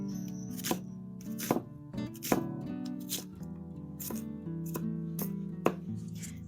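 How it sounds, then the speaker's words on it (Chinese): A knife dices a large onion on a cutting board in a home kitchen: a string of crisp, irregular chops, roughly ten close taps spaced unevenly, with quiet background music underneath. "再准备一个洋葱切丁"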